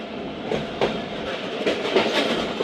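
The Thal Express passenger train rolls along the rails through mountain country with a steady loud rumble and a few faint wheel clacks over the joints, heard from inside the carriage, no talking.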